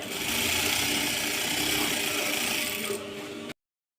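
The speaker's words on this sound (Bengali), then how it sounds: "জাস্ট এই যে এইভাবে সেলাই করে দেবেন।" An electric sewing machine stitches fabric for a salwar with a steady, close, continuous whirring hum that runs for about three and a half seconds, then stops abruptly.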